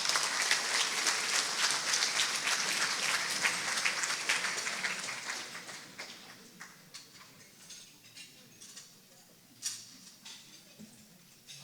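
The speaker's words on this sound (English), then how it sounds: "Let's give a nice round of applause for their good work." An audience at an annual meeting applauds with dense clapping that gradually thins out and fades to scattered individual claps.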